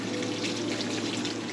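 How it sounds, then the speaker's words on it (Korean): Water running from an old outdoor faucet along a path toward a café, a steady, faint splashing stream that continues evenly throughout, with no talk over it. "와, 아주 정겨운 수도꼭지. 이거 물이 나올까?"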